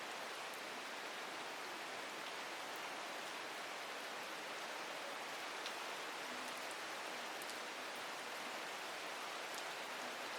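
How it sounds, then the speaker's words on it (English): Steady, dense rain falls in the video game Strange Horticulture, a continuous even hiss with faint scattered drips on top, unbroken and alone for the whole stretch. "I was listening to the rain and the thunder"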